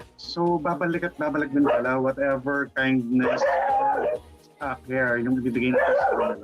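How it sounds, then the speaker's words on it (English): Rescue dogs yip and bark repeatedly in the background, their calls mixing with someone speaking over them. "Sorry for the noise, pero mga rescue dogs ko sila eh."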